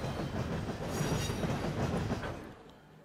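The LMS Coronation Scot train rolls along in the Trainz video game, a dense rumble with rhythmic clickety-clack from the wheels that holds steady and then fades out at the end.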